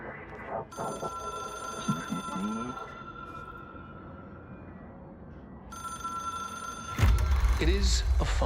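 A telephone ringing in the video game Control, a loud electronic bell in two long bursts separated by a pause, with a person talking over it and a heavy low thud near the end.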